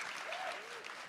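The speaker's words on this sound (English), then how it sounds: "Round of applause for that, please." A crowd at a political party gathering applauds in a short, dense burst, heard mid-clap and fairly distant, with faint voices mixed in.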